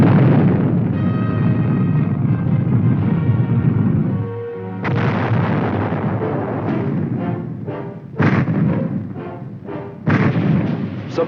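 Heavy artillery firing in support of airborne infantry: a sustained rumbling barrage followed by a string of sharp, loud blasts in quick succession, each one cracking out and echoing away.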